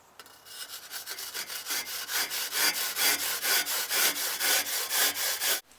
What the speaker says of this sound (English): I just use crappy yard sale hand saws